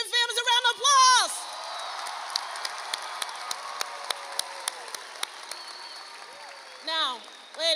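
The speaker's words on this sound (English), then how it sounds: "let's give the parents and families a round of applause" Graduation ceremony crowd applauds parents and families, a sustained wash of clapping with scattered sharp claps and cheers, bracketed by loud whooping and shouting voices at the start and end.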